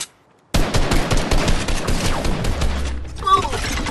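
Rapid bursts of gunfire crackle close and loud in a dense, continuous volley, with a low rumble and brief higher tones near the end.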